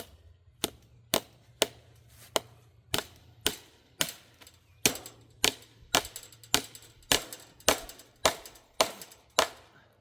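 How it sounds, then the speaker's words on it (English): Repeated sharp hammer strikes drive staples into a fence post, ringing out at an uneven but steady pace, some in quick pairs, close and crisp over a low hum. "find the hammer and we'll get some staples"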